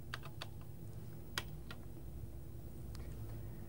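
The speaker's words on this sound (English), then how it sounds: "If I press the Help key on this terminal keyboard, we see the options that are available to us" Keys pressed on a Control Data computer terminal keyboard give scattered, crisp clicks, single taps with a few brief clusters, close and fairly quiet over a steady low hum, with no talking.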